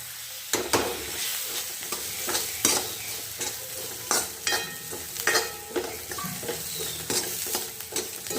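Roasted peanuts and coriander being stir-fried in a pan, with a steady sizzle broken by repeated scraping strokes of the spatula, close and continuous, with no talking.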